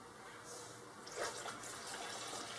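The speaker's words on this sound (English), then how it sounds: "I filled it up with water, and I'm going to go ahead and pour it in" Water pours into the reservoir of a Mr. Coffee 12-cup programmable coffee maker, a soft, steady trickle that swells after the first second and keeps flowing, fairly faint and close.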